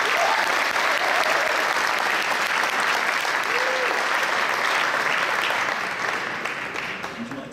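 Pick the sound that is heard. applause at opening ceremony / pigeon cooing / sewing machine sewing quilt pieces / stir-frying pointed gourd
applause at opening ceremony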